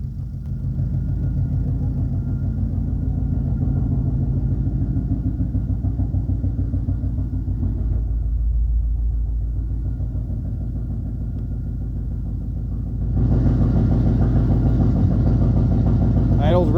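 A 1968 Pontiac V8 fitted with a Holley Sniper fuel injection system idles steadily and smoothly, a close, even low rumble that continues without a break and grows slightly brighter near the end.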